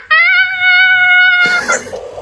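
A cat gives one long, loud, drawn-out meow lasting over a second, followed by a brief burst of rougher, noisy sound as it ends.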